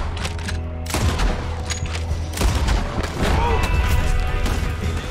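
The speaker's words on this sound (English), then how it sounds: "A shot. Oh, that was a poor shot." Sharp gunshots crack in a Red Dead Redemption 2 shootout, a couple of loud blasts standing out amid a chaotic, clattering gunfight with scattered impacts and crashes.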